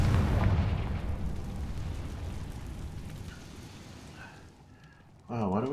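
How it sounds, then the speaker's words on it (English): A Confringo blast from Hogwarts Legacy rumbles loudly at the start and fades over several seconds into a lingering roar, before a voice cuts in near the end. "Confringo!"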